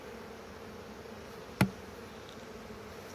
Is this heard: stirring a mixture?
no